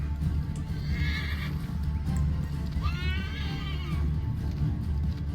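A horse in the video game Assassin's Creed 3 whinnies twice over a low, steady rumble of hooves and outdoor ambience, the neighs fairly close and distinct.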